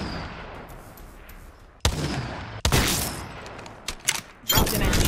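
Gunfire lands on the player in Apex Legends, heard as a few sharp, loud bursts of shots and impact hits that come in clusters over a low game ambience.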